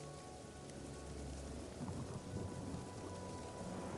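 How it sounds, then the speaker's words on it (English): Thunder rumbles low and rolling through a storm, swelling midway under a constant hiss of heavy rain on surfaces, with no voices. "Thunder rolls."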